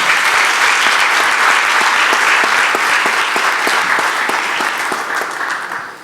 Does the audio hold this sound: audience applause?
yes